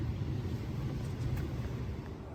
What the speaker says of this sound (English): the fueling station is running off of diesel generators. I can hear them ripping in the back